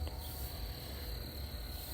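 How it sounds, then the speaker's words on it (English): Faint, steady high chirping of crickets outdoors during a solar eclipse, a continuous thin trill with no other clear sounds and no talking. "you can still hear the birds and the crickets."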